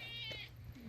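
A cat guarding a path near Hemel Hempstead gives a quiet, short meow with a rising, nasal tone, heard faintly over soft outdoor background noise in under a second.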